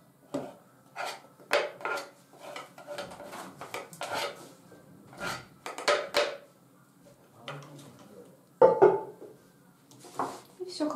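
Fresh Napa cabbage, cucumber and tomato salad dressed with refined sunflower oil is tossed in a bowl, giving repeated soft clattering and rubbing bursts of utensils against dishware at close range, with a brief louder knock near the end.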